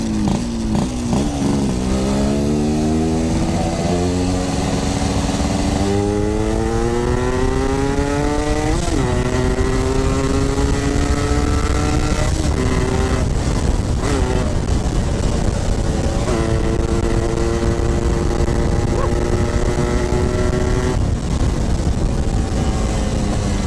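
A Yamaha RX-King motorcycle engine drones steadily up close on a mountain road, its pitch rising and falling through gear changes as it climbs and cruises, loud throughout with no talking.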